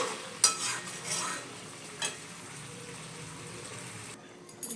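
Food sizzling gently in a pan as it is stir-fried before boiling water is added, with a few sharp utensil clinks and scrapes against the metal.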